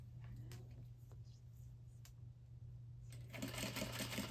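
Sewing machine basting along the edge of a bag, starting quietly with a few faint clicks and low hum, then breaking into a rapid stitching rattle near the end.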